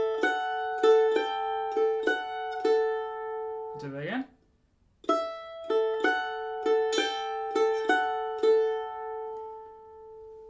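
Mandolin plays bar three of the tune Harvest Home, a run of bright picked notes in a steady rhythm, close and clear, broken by a short spoken pause before the phrase is played again.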